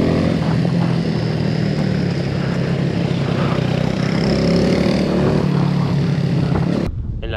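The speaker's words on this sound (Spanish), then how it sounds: "notas que el acelerador, cuando le das, responde y la moto tira." A motorcycle engine revs and pulls hard at close range after a drive chain and sprocket kit change, a loud sustained roar that cuts off abruptly near the end.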